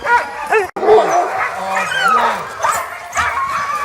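Several dogs of a pack bark, yip and whimper excitedly close by in an overlapping, busy chorus, in a Québec forest.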